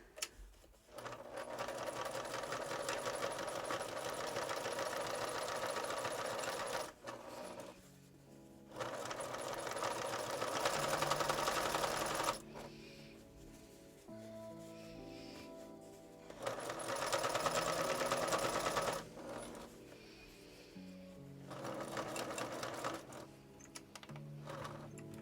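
A sewing machine stitches through the thick layers of a goose coat sleeve at the shoulder seam, running in several long steady bursts with short pauses between them.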